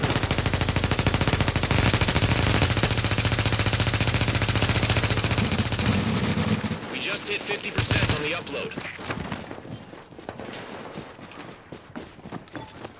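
Sustained automatic gunfire in The Division, loud and dense for about seven seconds, then breaking into scattered shots and footsteps-like clatter; a voice talks over parts of it.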